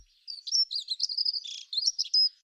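A high, thin bird song of rapid chirps and trills, delivered continuously for about two seconds, clear and alone.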